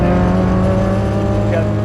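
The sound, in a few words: Honda Civic Kanjo race car driving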